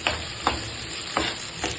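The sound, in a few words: sautéing capsicum and onion on full flame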